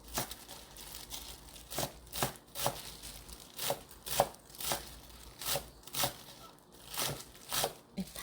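A knife chops green onions on a board in steady, crisp strokes, about two per second, close and clear, with quiet room noise between the cuts.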